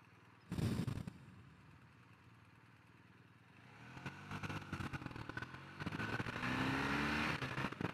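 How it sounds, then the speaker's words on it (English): A BMW R1250R motorcycle accelerates on a dusk ride, with a sharp burst early on, then engine roar and wind noise building loudly as it speeds up through the gears. "that's the joy of the bike. 0 to 30 in less than 2 seconds"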